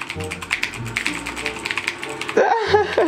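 Rapid clacking of keys on a new Razer BlackWidow mechanical keyboard, close and steady, with a voice briefly breaking in near the end.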